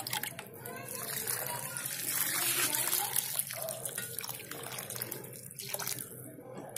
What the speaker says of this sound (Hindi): चलिए, अब हम इसमें पानी डाल देते हैं।